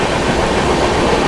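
Express train running at speed while overtaking the Kashi Vishwanath Express, a loud, continuous rumbling roar of wheels and carriages with no distinct clacks or voices.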